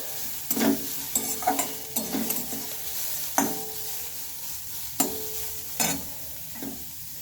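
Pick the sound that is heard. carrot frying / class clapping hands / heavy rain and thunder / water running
carrot frying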